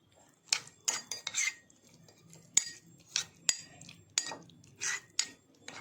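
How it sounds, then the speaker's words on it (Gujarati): A metal spoon clinks and scrapes against a bowl in a quiet kitchen while chutney is stirred together with oil, producing irregular sharp taps and short scraping strokes with no talking. "હવે એને આવી રીતે તેલને એને મિક્સ કરી દેવાનું હલાવીને"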